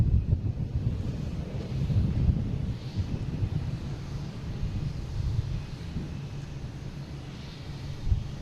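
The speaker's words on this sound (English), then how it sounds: "It is Delta heading to Cincinnati. E175, flight" A Delta Embraer E175 jet bound for Cincinnati roars steadily at Boston Logan airport, its low rumble blended with heavy wind noise on the microphone, rising slightly then easing and holding on.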